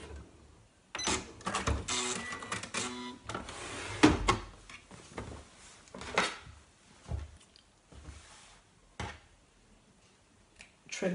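Sewing machine stitching a tote bag in uneven bursts of rapid mechanical whirring, with pauses, clicks and handling noises between runs.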